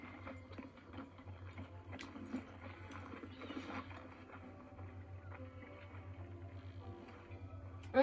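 A horse clip-clops along in the Western game Red Dead Online, its hooves giving a quiet, steady rhythmic patter under low background ambience, ending with a brief louder knock.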